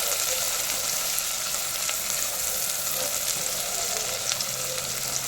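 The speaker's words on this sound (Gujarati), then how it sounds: "હવે આપણે નાખી દઈશું ઝીણી કાપેલી ડુંગળી. એની પણ આપણે હલકી એવી સાતળી લઈશું." Finely chopped onions fry in oil for Gujarati white kadhi, a steady soft sizzle with faint stirring clicks, alone and unbroken throughout.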